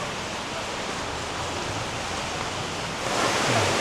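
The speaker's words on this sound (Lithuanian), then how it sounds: "Krioklys" A waterfall in Sri Lanka gives off a continuous broadband rush of falling water that swells louder toward the end, with no voices.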